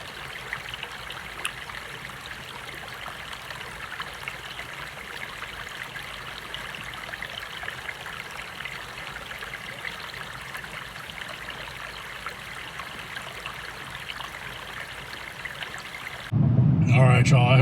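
A shallow stream at the headwaters of the Mississippi River flows steadily in a continuous trickling wash. The sound is close and unbroken, and it ends in a louder, different sound.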